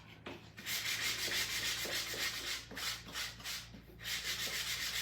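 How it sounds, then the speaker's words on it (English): Steady back-and-forth rasp of 80 grit sandpaper worked by hand around the edges of painted vintage furniture, distressing it and lifting excess paste; close and continuous with brief pauses, no talking. "just taking my 80 grit, going around all the edges here"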